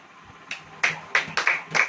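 Five sharp hand claps ring out in an irregular rhythm, close and fairly loud, during a Hindi church sermon where the congregation is called on to clap.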